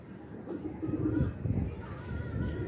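Pigeons coo softly and low in repeated throaty murmurs, fairly faint under a background of general ambient noise.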